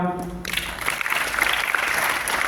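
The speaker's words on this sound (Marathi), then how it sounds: "आपल्या शाळेच्या वतीनं रजनी हिरवेकर मॅडम यांना आपण टाळ्या वाजवून धन्यवाद देऊया" A school audience bursts into dense, steady applause to thank teacher Rajani Hirvekar for donated books. Sustained clapping fills nearly the whole stretch after a brief quieter opening with a faint voice.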